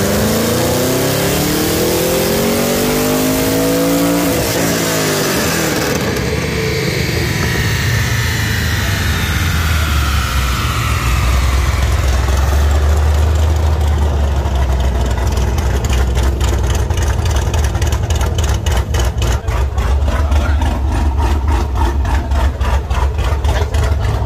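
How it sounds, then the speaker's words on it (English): A V8 car revs hard on a dyno at a Saturday dyno meet, the engine climbing through long loud pulls and dropping back, droning steadily with a deep rumble throughout, no talk. "we got a V8 and it's on the dyno"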